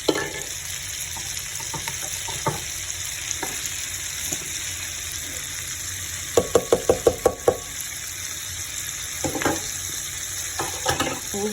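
Chopped cabbage and diced onion frying in melted butter, giving a continuous close sizzle. A rapid run of sharp utensil knocks against the pan cuts through midway, with scattered clinks before and after.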